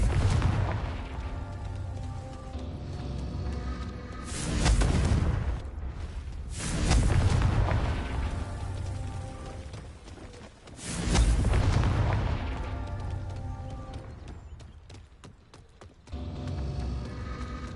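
Confringo fire spells explode in the video game Hogwarts Legacy. Several heavy, booming blasts arrive a few seconds apart over a continuous rumbling game soundscape, with one abrupt cut near the end.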